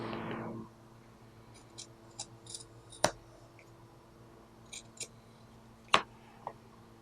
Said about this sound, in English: we just go ahead and cut off all this excess, which I would definitely recommend scissors rather than a rotary cutter